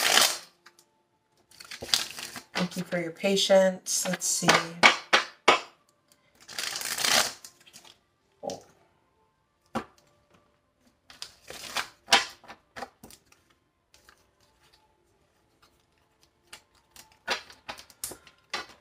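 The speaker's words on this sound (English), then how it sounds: "Gonna give these cards a quick shuffle." Cards are riffled and shuffled in several quick bursts with pauses between, close up, while a person speaks briefly.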